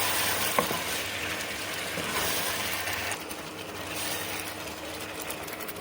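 Vegetables and green chilies sautéing in a pan, giving a steady sizzle and scraping hiss with a brief sharp clink early on, the sizzle easing slightly halfway through.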